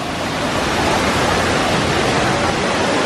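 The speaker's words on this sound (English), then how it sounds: "Look at all that water coming down." Steady, dense roar of water pouring down at a water park, loud and continuous with no pauses, like a heavy cascade close by.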